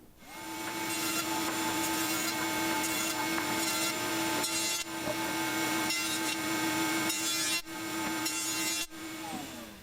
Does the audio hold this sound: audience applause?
no